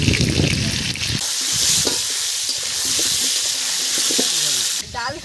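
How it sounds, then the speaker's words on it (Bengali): Potatoes fry in hot oil for a village-style desi chicken curry, a loud, close, steady sizzle with stirring clinks and scrapes that quiets near the end, where a brief voice is heard. "মাংসের আলুগুলো এখন আমি ভেজে নেব।"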